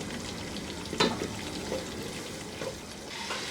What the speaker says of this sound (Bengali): এখন এর সাথে আমি দিয়ে দিব এক কাপ পেঁয়াজ একটু মোটা মোটা করে কাটা দিয়ে এর সাথে একটু ভেজে নিব পেঁয়াজটা